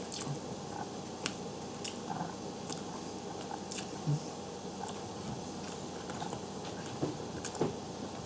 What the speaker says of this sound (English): Now that was a big bite of ramen.